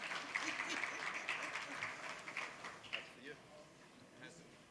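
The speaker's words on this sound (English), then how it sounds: "Big round of applause." A conference audience gives a big round of applause to welcome a panel at an anniversary event, steady close clapping throughout with scattered cheers and voices that gradually thin out toward the end.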